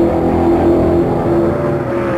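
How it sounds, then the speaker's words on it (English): 1967 Can-Am race cars at full throttle at Road America give a loud, steady engine roar with a sustained droning pitch, heard briefly and close. "Denny Hulme is running flat out to add some more time to his already enormous lead"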